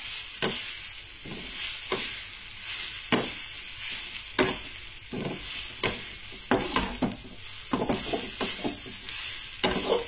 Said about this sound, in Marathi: सोय भाजताना न्हय हांगसर आनी काय ऍड करपाचे ना, फक्त सोय फक्त आमकां भाजून घेवपाक जाय.